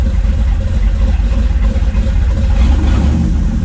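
A supercharged LSA 5.3 engine in a C10 idles roughly and close up, with a steady, loud, uneven low rumble that dips and recovers.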